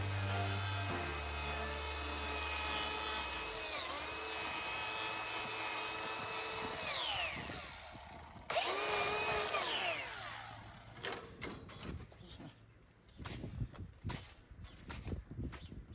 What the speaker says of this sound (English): I need to trim that outer claw to see if I can put a block on there if need be